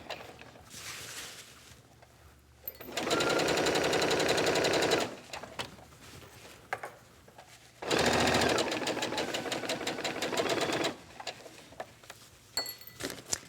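A sewing machine stitches around a garment neckline after the centre front seam, loud rapid runs in two long bursts with quiet pauses between.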